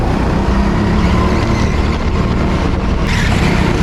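A racing kart engine powering out of a corner on a track, a loud, buzzing, sustained motor drone close up with a slight rise in pitch near the end, no voices.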